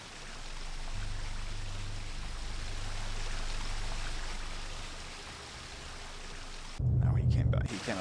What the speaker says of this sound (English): Can't hear anything either with that water going